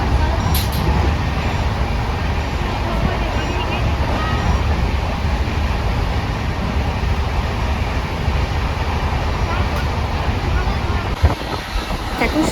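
Steady, loud rumble of a moving train, continuous clatter and roar with no pauses, heard from inside or very close.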